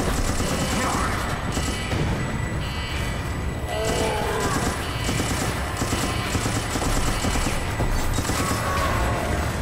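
Sustained gunfire from the video game Medal of Honor: Airborne, with dense rapid shots and bursts layered into a continuous loud battle din, joined by occasional mechanical clatter.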